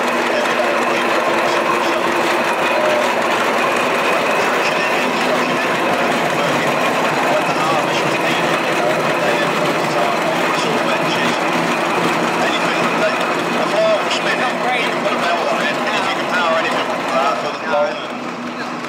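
A heavy agricultural steam traction engine of about ten or eleven tons runs steadily at a steam rally, its mechanical clatter and rumble continuous and fairly loud, with a voice talking over it.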